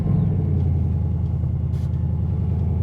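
A custom 1955 Ford F100 pickup with a Coyote V8 swap and 10R80 transmission drives along, its engine a steady, loud low rumble throughout with no talk.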